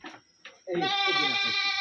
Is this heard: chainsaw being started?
no